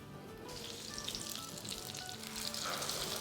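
Lachha paratha frying in oil on a pan over medium-low flame, a steady close sizzle that swells and grows louder toward the end, with no talking.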